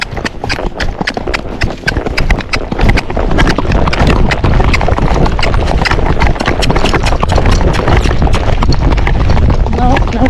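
Rapid, even four-beat hoofbeats of a Tennessee Walking Horse racking on a trail near a parking lot, loud and close with steady rumbling movement throughout, no talk.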